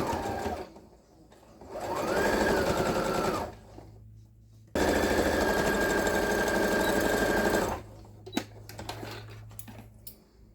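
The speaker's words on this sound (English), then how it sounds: "I'm just going to sew 2 lines right down to make the binding" A sewing machine stitches binding lines on a fabric tea cozy in two loud, steady bursts of rapid rhythmic needle clatter, separated by a short pause, followed by scattered clicks and handling.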